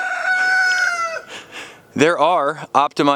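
A backyard chicken gives a long drawn-out crow up close, followed by a few loud, warbling squawks and clucks in quick bursts.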